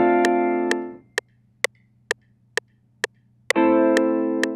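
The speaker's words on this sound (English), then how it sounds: "it was this weird, warped, organ-y sort of guitar sound" Warped, organ-like chords from a sampled Gibson ES-335 guitar swell, cut off into a run of sharp evenly spaced ticks, then return as a sustained wash near the end.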